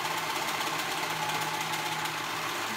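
A serger overlocking a shoulder seam on a wrap dress, running as a steady, fast mechanical whir with constant motor hum and rapid stitching rattle throughout, close and continuous with no talk.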